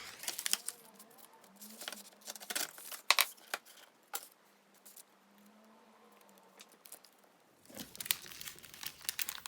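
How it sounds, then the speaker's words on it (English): Washi tape is torn off a roll, giving close crinkling and tearing rustles in quick bursts, followed by louder handling noise. "let me just tear off a piece of this washi to make sure it actually sticks"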